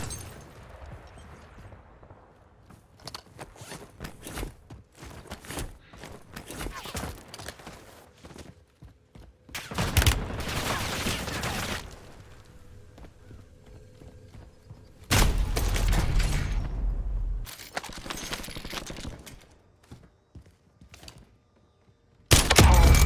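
Gunfire in the battle royale video game Warzone, several loud bursts of automatic fire in separate volleys with quieter thuds and footsteps between them.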